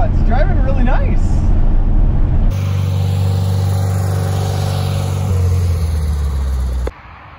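A 1965 Volkswagen Beetle drives along with a steady, loud low engine drone and road rumble from inside the car, while people talk over it at the start.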